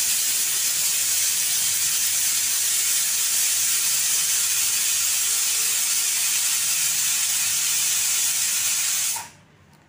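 A pressure cooker whistle on a gas stove releases steam in a loud, continuous hiss that runs for about nine seconds before cutting off abruptly, with no talking.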